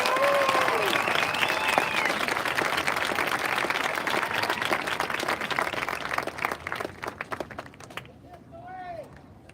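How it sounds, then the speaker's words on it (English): A school audience applauds class 5B at a fifth grade promotion ceremony, with dense, steady clapping from a crowd that fades near the end as a voice begins to speak. "Okay, a round of applause for"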